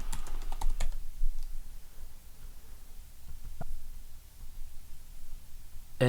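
Several quick keystrokes on a computer keyboard click close by at the start, followed by a few scattered taps against a quiet room.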